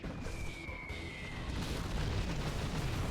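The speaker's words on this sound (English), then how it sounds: "Carpet bomb comes in." Carpet bomb strikes in Command & Conquer Generals, a dense rumbling wash of overlapping explosions that swells and stays loud, with a faint high whine fading out early.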